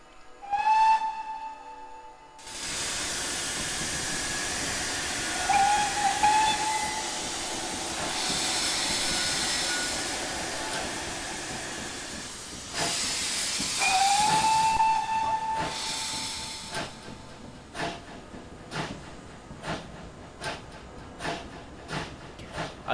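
Steam locomotive cylinder cocks hiss loudly and steadily in a train simulator game, a long broadband rush of steam with a whistle tone rising in and out, then giving way to regular rhythmic chuffs near the end.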